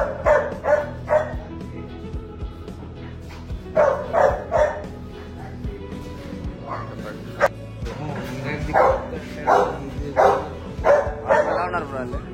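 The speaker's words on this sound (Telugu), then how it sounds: "సో గైస్ అన్ని పెంచుకునే కుక్కలే అంట," Pet dogs near the Machilipatnam port bark in repeated bursts, several loud woofs and yips clustered through the scene, close by amid a noisy outdoor background.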